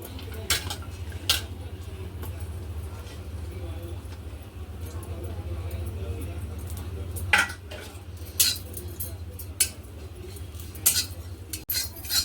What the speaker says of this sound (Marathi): सुकं खोबरं हे मी किसून घेतले किसणीने हे सुद्धा भाजून घेऊया